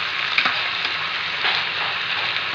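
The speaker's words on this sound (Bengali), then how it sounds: "এগুলো দিয়ে ভালো করে মাংসটা কষে নেব।" Mutton with its own fat sizzles in a pan after garlic paste goes in, a loud continuous close frying hiss with a couple of faint scraping stirs.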